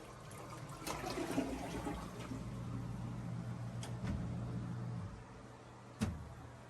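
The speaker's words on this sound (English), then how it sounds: "The toilet is flushing properly." A toilet flushes with a rushing, gurgling swirl of water that runs for several seconds, then cuts off, followed by a sharp click.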